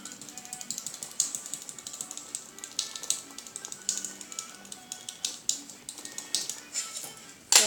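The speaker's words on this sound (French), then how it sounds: "la face du bas, je vais la texturer aussi, même si on ne la voit pas beaucoup, avec ma brosse à dents" Toothbrush bristles scraping across the bottom face of a chocolate piece for a homemade BN biscuit, a close run of quick, scratchy strokes repeating in an uneven rhythm, with no talking.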